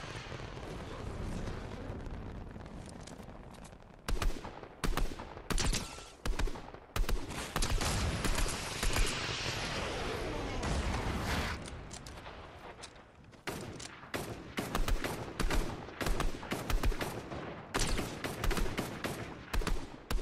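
Rapid bursts of gunfire in the video game Fortnite, loud crackling volleys and single shots repeating in dense clusters with brief gaps, sometimes overlapping into sustained fire, and no voices.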